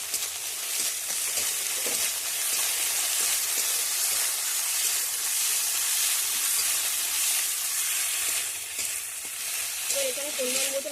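Ginger garlic paste added to hot oil with reddish fried onions and green chillies, a loud continuous close sizzle and hiss with occasional stirring scrapes throughout.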